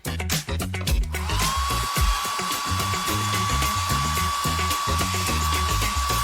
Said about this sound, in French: Et on sèche au sèche-cheveux.